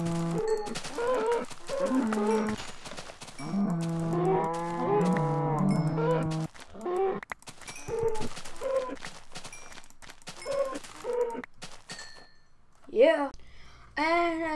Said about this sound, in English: God, these cows are annoying.